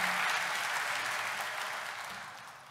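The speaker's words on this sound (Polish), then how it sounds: "Wielkie brawa i gratulacje dla wszystkich odznaczonych." Audience applause at an academic year inauguration ceremony in Poland, a steady dense wash of clapping across the hall that slowly fades over a few seconds, with no speech.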